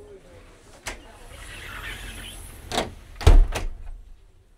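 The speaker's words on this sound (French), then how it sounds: "Je ferme ici la porte de coupée." The gangway door on a Marex motorboat is handled: a sharp click, then a few thuds and a solid bump as it closes and latches, over faint background hiss.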